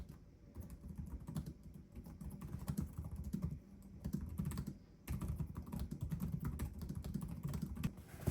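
Dense, steady clatter of keystrokes on the snappy ThinkPad keyboard of a Lenovo ThinkPad P14s Gen 4 laptop, fast continuous typing close up with a brief pause midway and no talking.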